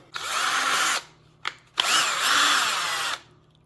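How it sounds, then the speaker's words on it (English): A power drill straightening wire gripped with pliers whirs in two runs, a short start and stop between them, loud and close. "I'm just going to squeeze my pliers and pull down the length of it as I run the drill"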